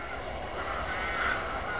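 Crows nesting in trees on a spring morning give faint, distant caws over a steady outdoor hiss, with no talk.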